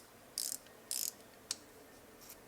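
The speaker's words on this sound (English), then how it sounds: "I got this 1/4 inch socket ratchet right here" A 1/4 inch socket ratchet clicking: two short buzzing bursts of rapid pawl clicks followed by a single click, close and fairly quiet with no speech.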